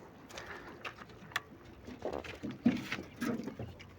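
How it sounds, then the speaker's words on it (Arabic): Caged pigeons coo softly in a backyard loft, faint low murmurs rising in a few short bursts over quiet rustling, with no talk. "طبعا الحمام محبوس،"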